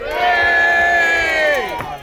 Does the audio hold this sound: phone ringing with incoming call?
no